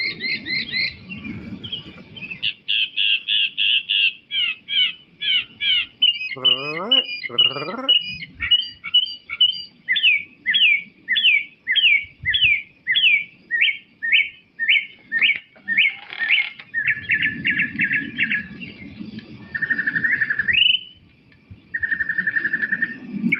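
A bird repeats rapid, electronic-sounding chirps and warbling whoops in shifting patterns, closely mimicking the cycling phrases of a car alarm, loud and continuous.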